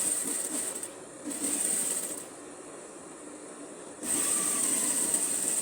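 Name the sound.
sewing machine stitching fabric of tailored shorts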